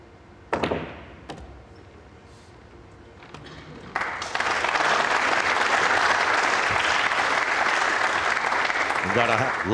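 A partisan crowd at the 2015 World Cup of Pool semi-final bursts into loud, sustained applause after a shot, following a few isolated taps and knocks in a quiet hall.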